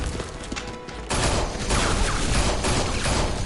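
Sustained bursts of gunfire in a Batman video game, with a dense volley that suddenly grows louder after the first second and continues steadily to the end, with no talk.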